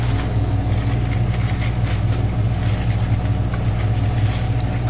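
Front-loading washing machine spinning at full speed after a repair, a loud, steady mechanical whir with a constant low hum and faint rattling, unbroken for the whole stretch.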